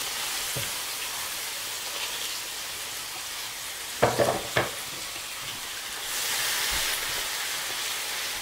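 Onions hit hot rendered bacon fat in a pan for a warm bacon potato salad. A continuous close sizzle runs throughout, with a few sharp stirring scrapes midway and the frying swelling louder toward the end.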